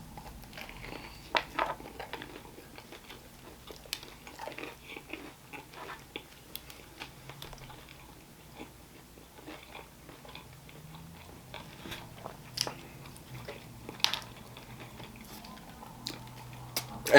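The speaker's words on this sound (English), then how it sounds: "the chicken does have a nice crunch to it. You can hear that." Close, quiet crunching and chewing of a Burger King crispy chicken sandwich on potato bread, with irregular crisp bites scattered throughout, no talking.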